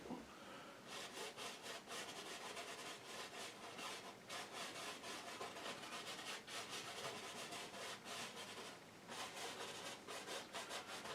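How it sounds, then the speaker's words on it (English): Oil paint is scraped across a canvas in repeated rasping strokes, a steady rhythmic scratch up close with no one speaking. "I'm just scraping down a little bit with the colour"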